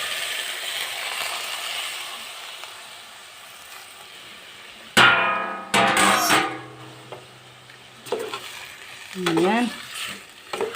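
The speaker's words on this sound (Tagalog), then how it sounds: "Isahog na natin yung munggos natin." Mung beans are tipped into a hot cooking pot and stirred. A sudden loud clatter and sizzle is followed by intermittent scraping stirs, with a short spoken word and faint kitchen hiss around them.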